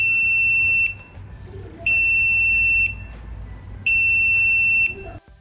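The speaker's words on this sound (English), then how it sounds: "They will have a beep, so that means the copy is ready." A UGREEN SATA hard drive docking station signals a finished copy with three long, shrill electronic beeps, evenly spaced about a second apart over a low hum.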